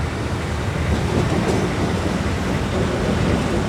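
Darjeeling Himalayan toy train heard from inside a carriage on the mountain railway: a steady, loud rolling rumble with rattling clatter that continues without a break, and no voices.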